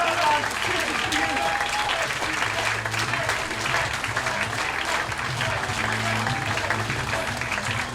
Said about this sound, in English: Please stand and clap for Jack Cade!